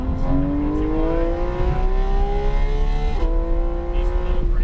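A Porsche 911 GT3RS engine pulls hard on a racetrack, its tone climbing steadily through the revs, then dipping sharply at a gear shift before it keeps winding upward, loud and close from inside the car.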